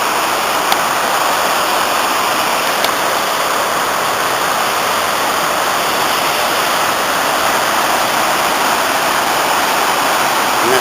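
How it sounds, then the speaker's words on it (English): The raging torrent at the Betws y Coed waterfalls pours in a loud, constant, broadband roar of rushing water that fills the whole stretch without a break. "One more shot of this raging torrent."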